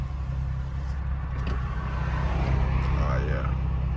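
Car engine idling with a newly fitted axle-back exhaust, a deep steady rumble heard close up, with faint voices underneath.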